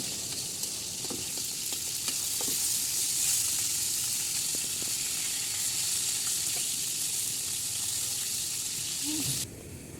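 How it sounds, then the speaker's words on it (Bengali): Fish frying in soybean oil in a rural village kitchen, a steady broad sizzle and hiss close by with a few faint clicks, continuing evenly until it drops off near the end. "মাছগুলো ভেজে নিচ্ছি মাছ অল্প ভেজে নিব"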